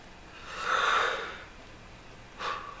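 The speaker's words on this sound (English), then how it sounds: "Yawning when you're doing a live stream is so gauche." A single drawn-out breathy exhale, soft and close, followed a moment later by a shorter faint breath; no talking.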